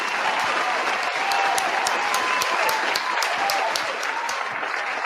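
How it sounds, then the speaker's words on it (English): A round of applause fills the room on a sports talk show, a dense, continuous wash of clapping with a few sharper individual claps standing out. "So I just want to give a round of applause."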